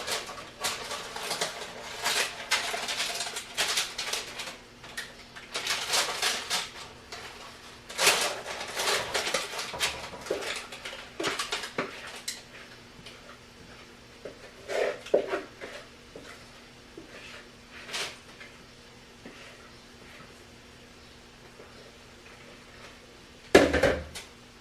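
Thick butterscotch krimpet batter being scraped and spread into a baking pan, with a run of close clinks, taps and scrapes of utensil against the pan, bursts of activity broken by quieter pauses and one sharp knock near the end.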